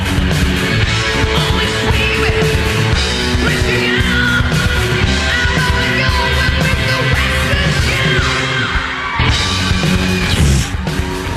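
A studio recording of a rock band covering another artist's song plays loudly and continuously, with driving drums, guitars and a belting lead vocal.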